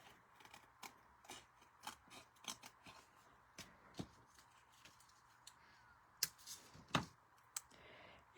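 Scissors snipping paper for a handmade card, a series of quiet, close, irregular cuts and clicks with brief pauses between them.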